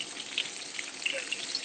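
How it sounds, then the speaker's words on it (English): Food sizzling in a pan during a virtual tasting, a faint, steady hiss with small crackling pops throughout. "We can hear it sizzle."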